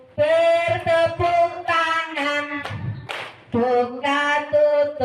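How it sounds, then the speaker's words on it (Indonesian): In a classroom song game, hands clap in short, sharp bursts along with a group singing a rhythmic children's tune, the claps close and mixed under the voices. "tutup, bertepuk tangan."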